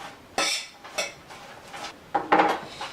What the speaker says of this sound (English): I'm just going to use a fork to toss it around so it gets coated